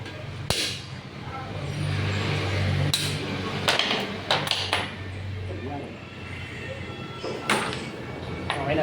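A ball race is hammered into place on a bicycle frame with a handful of sharp metallic taps spread unevenly across the clip, each one brief and ringing, heard over a low background hum while a person talks.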